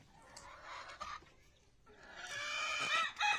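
Egyptian Fayoumi chickens cluck faintly in short, scattered calls, growing busier and more overlapping toward the end, with no one talking.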